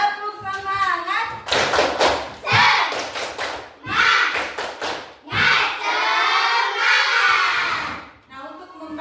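A class of children doing a rhythmic spirit clap with a chant in a classroom, loud bursts of hand claps in patterned groups alternating with shouted chanting voices.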